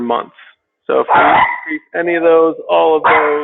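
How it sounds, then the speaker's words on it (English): A dog barks several times in loud, close, sharp bursts, nearly drowning out a person talking. "Sorry about my dog."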